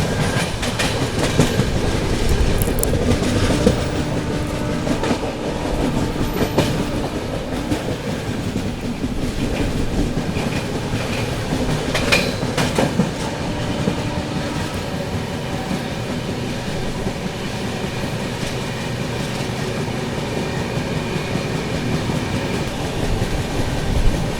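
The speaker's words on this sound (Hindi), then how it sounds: "यहाँ पर अपनी पुणे दुरंतो एक्सप्रेस स्किप करने जा रही है हड़पसर पुणे रेलवे स्टेशन को" The Pune Duronto Express runs past Hadapsar station near Pune, a loud steady rumble with continuous clickety-clack of wheels over rail joints and occasional squeals, close by and alone for the whole stretch.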